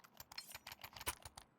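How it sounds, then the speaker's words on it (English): Rapid typing on a computer keyboard during an esports match broadcast, a quick irregular run of light key clicks, faint and close, with no talk over it. "they are typing up a storm in here"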